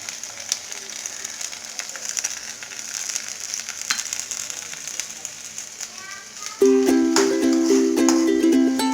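Tomatoes added to hot oil for black beans masala, giving a steady hiss of sizzling frying, close and even, with a tonal chime-like sound joining near the end.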